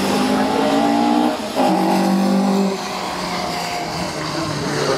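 Rally car engines on the Isle of Man Rally, loud revving as a car accelerates past close by, pitch climbing through gear changes before easing into a steadier roar.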